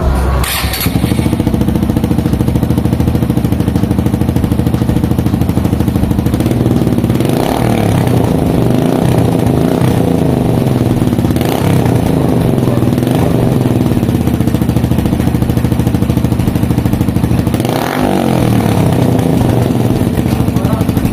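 A motorcycle with a Yoshimura Hurricane GP-89 exhaust and silencer starts, idles loud and close, then revs in several quick blips over a steady rumble.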